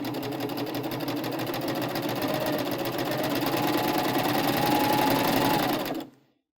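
A close, loud sewing machine stitches steadily through the seam of a drawstring backpack, holding one even run for about six seconds before stopping abruptly into silence.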